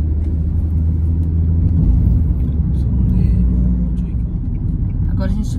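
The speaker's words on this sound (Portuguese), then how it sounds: "Agora a gente vai estacionar o carro em algum lugar, né?" A car driving slowly through a city street with many shops, a steady low engine and road rumble throughout, with a faint hiss near the end and no talk over it.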